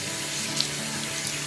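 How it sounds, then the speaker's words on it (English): Water runs steadily from a bathroom tap into the sink, a constant close hiss and splash with no talking. "I'm just going to take a face cloth and just turn on the water here"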